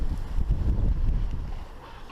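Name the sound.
sailboat cruising in a north wind on Lake Erie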